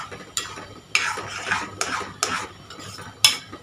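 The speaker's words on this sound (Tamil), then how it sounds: "இதில் உள்ள கொஞ்சம் பச்சை வாசனை போகிற அளவுக்கு வதக்கலாம்." Masala for a quick bachelor-style egg masala is stirred and sautéed in a pan, with a spoon scraping and clinking against the metal in several short strokes over a soft background sizzle.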